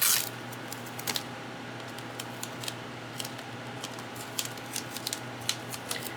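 Journal cover material is peeled up from a surface in a series of crisp, crackling snaps and small tearing ticks, close and irregular, over a faint steady room hum.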